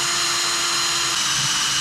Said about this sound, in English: I'll just use some aluminum rivets to go through the table and the little edge here.